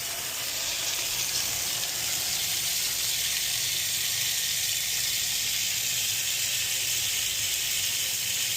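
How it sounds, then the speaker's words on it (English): Water runs from an outdoor hose bib tap in a steady, loud, broadband rush that hisses without a break for several seconds, close by and with no talking. "We're going to let the water run for a few seconds."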